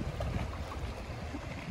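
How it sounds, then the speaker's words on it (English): Wind and sea waves push a kayak toward a rocky shore, a steady broadband rush of wind and surf with low rumbling buffeting, continuous and close, no voices. "the waves are taking me right into shore"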